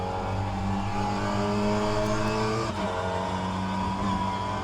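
A Mini Cooper race car brakes at Sebring in the rFactor 2 racing game, its engine a steady, loud buzzing drone that dips briefly midway before settling back, heard alone without talk.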